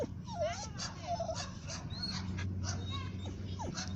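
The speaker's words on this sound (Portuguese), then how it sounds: "Esse latido aqui é de querer socializar" A dog gives short, excited yips and whimpering barks in an eager, sociable mood, at an uneven rhythm and at moderate distance, while a person speaks quietly underneath.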